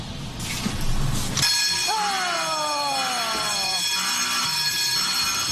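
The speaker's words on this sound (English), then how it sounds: "With the alarm ringing, Tori heads back to the test zone for a post-mortem." A loud, continuous electronic alarm triggered by a passive infrared motion sensor rings steadily with a high tonal drone, preceded by a brief clatter.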